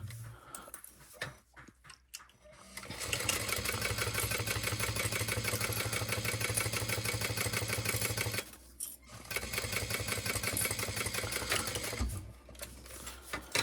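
A sewing machine runs steadily while stitching a quarter-inch seam with a back stitch on a Coin Thief Becca mini quilt add-on. The close, continuous mechanical whir pauses briefly between runs, and no one talks.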